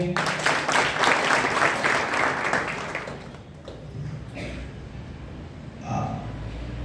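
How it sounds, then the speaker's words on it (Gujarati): An audience at a Gujarati poetry gathering breaks into dense applause for the poets for about three seconds, then it thins out into quieter room noise with a few scattered sounds. "તો એવા કવિઓ માટે પહેલા આપણે એક જોરદાર તાળી પાડીએ."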